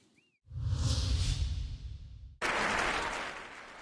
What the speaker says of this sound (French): Applaudissements et embrassades, c'est l'heure des au revoir à Strasbourg